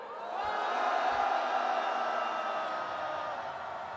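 A large outdoor rally crowd in a Seoul plaza roars a sustained shout, loud and broad, swelling for several seconds before easing slightly, with no clear single voices standing out.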